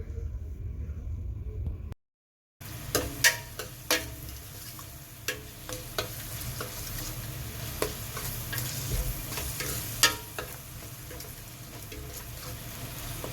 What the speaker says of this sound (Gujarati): ટામેટા એડ કર્યા પછી થોડો રસો છૂટે એટલે થોડો ટાઈમ લાગશે એને સાંતળવામાં